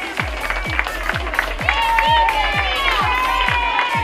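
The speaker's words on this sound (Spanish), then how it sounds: "Fuerte el aplauso a los niños" Crowd applause and cheering for children at a swimming club awards ceremony in a large echoing space, with a steady thumping beat and high voices shouting over the clapping.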